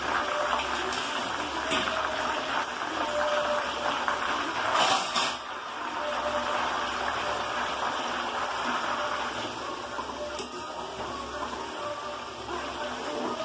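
A continuous bubbling, hissing herbal oil simmering in a pot nearby, steady throughout with a brief louder burst partway through.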